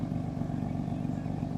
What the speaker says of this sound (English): he's put the car in sport mode and gently tapped the accelerator to open the valves up